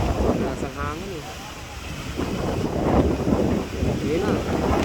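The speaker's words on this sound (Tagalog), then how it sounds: "Malakas na ng alon mga brothers. Lalaki ng alon, oh. Malakas ang hangin, eh." Strong wind roars across the microphone while heavy sea waves surge and wash around a boat, a continuous loud rushing with a voice speaking over it.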